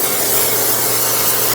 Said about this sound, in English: This is the same parchment that I used for my lemon cookies. But now I'm going to spray it for these.